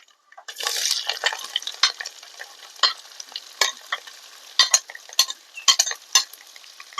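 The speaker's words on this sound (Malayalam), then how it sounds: "നമുക്ക് ഇനി സവോള ഇട്ട് കൊടുക്കാം." Sliced onions hiss and sizzle in a pan of oil with browned coconut pieces for a Kerala beef roast, broken by repeated sharp scrapes and clicks of a spoon stirring, close by and without speech.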